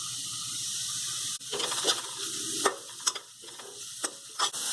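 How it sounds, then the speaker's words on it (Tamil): Snake gourd sautéing in a pan with chili powder, salt and asafoetida, a steady sizzle broken by several spatula scrapes and clacks against the pan, close and moderately loud. "ஒரு 2லேருந்து 3 நிமிஷம் புடலங்காய் இந்த மாதிரி வதக்கி எடுத்துக்கோங்க."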